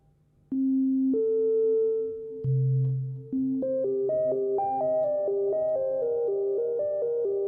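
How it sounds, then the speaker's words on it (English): A clean, pure sine wave tone from a Behringer Odyssey analog synthesizer sounds alone, stepping between steady pitches, dropping low for a moment and then climbing through a run of higher notes. "And now we get like a pure sine wave."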